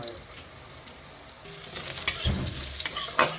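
Eggplant fries in oil with black cumin and green chilli while being stirred, a quiet sizzle that grows louder partway through, broken by several sharp scrapes and knocks of the spatula against the pan.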